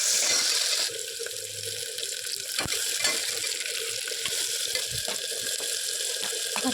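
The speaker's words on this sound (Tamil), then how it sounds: "எல்லாம் போட்டு வதக்கணும்." Onion, green chilli and vegetables sautéing in oil with mustard seeds, giving a steady close hiss and sizzle with faint scattered pops and stirring scrapes throughout.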